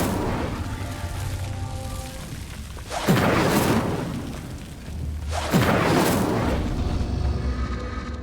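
Two whooshing bursts of the Incendio fire spell in the wizarding game Hogwarts Legacy, each a loud flaring rush that swells and fades, a few seconds apart over a low ambient bed.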